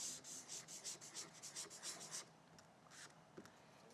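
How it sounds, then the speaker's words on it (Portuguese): A pen scratching across paper in a quiet room, a close, soft rhythmic series of strokes that fades to a few lighter marks near the end. "Vou anotar aqui com a caneta"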